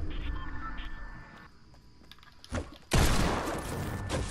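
Gunfire in a video game aimed at a supply drop, a sudden loud burst of shots that follows quieter background game sound and a brief thump.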